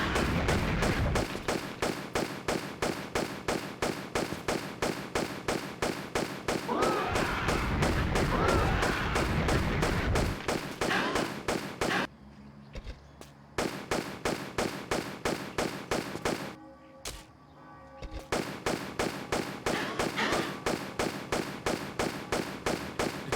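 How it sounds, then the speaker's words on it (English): Gunfire in the Tomb Raider Chronicles video game, a rapid, steady train of loud repeated shots that stops briefly twice before resuming, with game sounds underneath. "listening to the gunshot"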